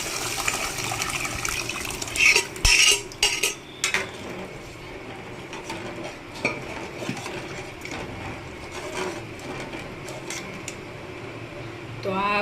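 Dal being poured into a cooking pot and stirred for dal dhokli: a liquid splash and pour, a few clanks of a spoon against metal, then quieter stirring and kitchen clatter.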